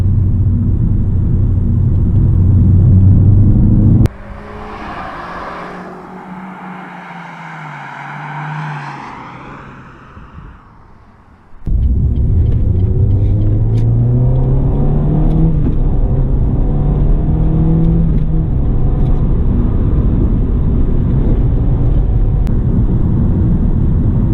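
Renault Clio 197 engine revving hard past 4,000 RPM, a loud rising car engine roar with sweeping pitch, a brief quieter stretch with a rising whine in the middle, then strong revving again throughout.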